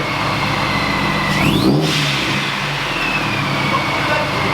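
A turbocharged Subaru BRZ engine with an aftermarket boost kit revs loudly close by, a steady hard-edged roar that climbs in pitch briefly midway and then holds, with no talking over it.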